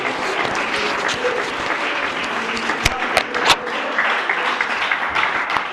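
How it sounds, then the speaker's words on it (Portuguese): Church congregation clapping along during a Portuguese-language worship service, a steady dense wash of many hands with a few sharper louder claps standing out near the middle. "Mais forte as palmas, mais forte."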